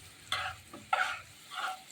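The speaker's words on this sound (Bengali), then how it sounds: "এখন একটু নেড়ে চেড়ে একটু লাল লাল করে ভেজে নিচ্ছি আলুটাকে" Potato pieces scrape and shuffle in hot oil in a pan as they are stirred and fried. Three soft strokes with a light sizzle, quiet and close, with no voices.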